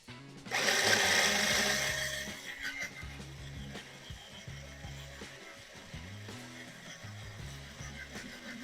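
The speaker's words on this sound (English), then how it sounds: "I like to use this little tuner spin tool, which allows you to quickly string up the guitar." A small tuner spin tool winds strings onto the tuning pegs of a 3D-printed guitar core, a bright whirring burst up front settling into a steady, softer mechanical purr with rhythmic low cranking pulses, close and alone.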